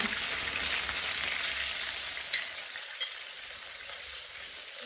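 Ginger garlic paste sizzles and fries steadily in a hot pan, with a continuous crackling hiss and one small clatter partway through.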